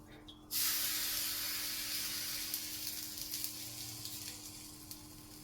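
Water splashed onto a ragi millet roti on a hot pan sets off a sudden loud, steady hiss that fades only slightly over several seconds, with faint background noise.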